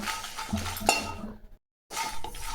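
Dry red chillies being dry-roasted in a pan for sambar powder, with a steady scraping and clinking of a utensil against metal, a brief sharp clink near the middle, a short pause, then the stirring resumes.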